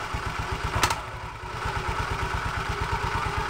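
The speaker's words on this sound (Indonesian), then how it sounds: "udah hidup ya motornya" An automatic scooter's engine idles steadily with its CVT cover removed, giving a rapid, even low putter with a light mechanical clatter over it and one short sharp tick near the start.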